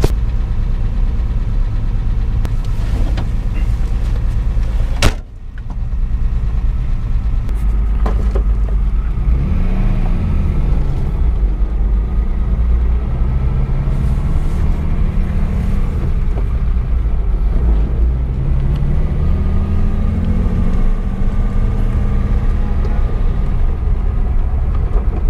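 Rough-running engine of a 1961 Mercedes-Benz 220Sb W111, loud and close, with a steady uneven idle throb that keeps going and a sharp knock near the start.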